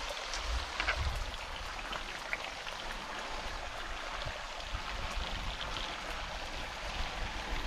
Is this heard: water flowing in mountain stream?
yes